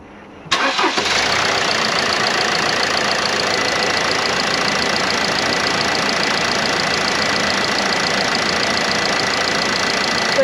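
Camper van engine cranking and catching abruptly, then settling into a steady, loud, even idle with a dense mechanical hum that continues without change.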